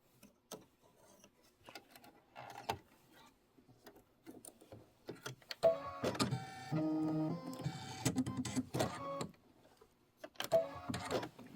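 An embroidery sewing machine stitches a placement line for a mini quilt, starting with scattered clicks and then settling into a rapid mechanical whirring and tapping that stops and restarts, heard alone up close.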